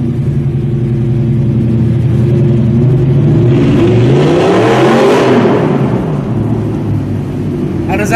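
An Audi R8 supercar fitted with an Armytrix exhaust pulls away loudly, its engine note climbing and sweeping up through the revs before settling, heard close and steady throughout without talk.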